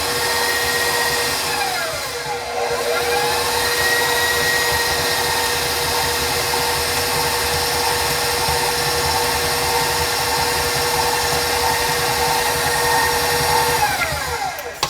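An electric mixer runs steadily and loud for the whole stretch, a continuous motor whine while mixing grouped ingredients, with slight shifts in pitch as the beaters work and no talk.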